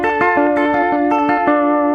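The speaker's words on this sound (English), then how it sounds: "Next is the vintage vibrato setting. So this one is the setting for the lead guitar one" Electric lead guitar through a vintage vibrato effect at full wet mix, playing a Western-style instrumental line with sustained, pulsing chords struck in a steady rhythm, loud and close with no talking.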